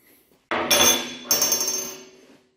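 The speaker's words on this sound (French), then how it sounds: "Maintenant, je vais lui taper dessus avec un marteau." A hammer strikes a can of black powder in two loud metallic blows about a second apart, each ringing on with a bright clanging decay.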